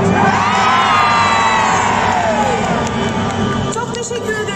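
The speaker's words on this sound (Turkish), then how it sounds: "Hep birlikte çığlık çığlığa" A concert crowd yells "hey" together in a loud, sustained roar of many voices. Cheering and whoops continue for several seconds before slowly easing off.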